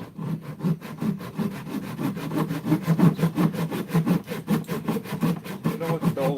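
An old handsaw cuts through wood in steady, rhythmic back-and-forth strokes, close and fairly loud, with a rasping bite on each pass and no talking.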